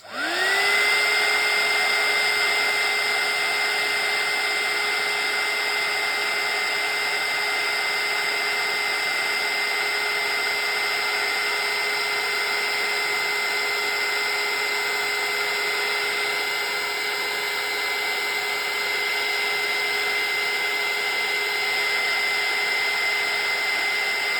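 A heat embossing tool blows steadily over paper in a grungy Christmas craft journal, a loud, continuous whirring hum with a high whine that holds unbroken for the whole stretch.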